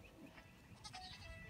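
Pygmy goats on a farm in Four Oaks, North Carolina, bleat faintly and in overlapping calls, heard at a distance among outdoor background noise.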